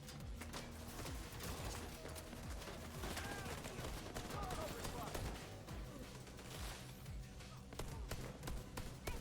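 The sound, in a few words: gunfire in the video game The Division 2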